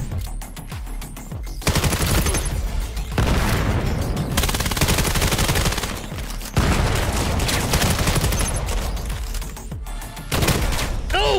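Dense bursts of rapid automatic gunfire from a VR shooter game, loud and close, coming in several long sustained volleys separated by brief lulls, with a faint voice underneath.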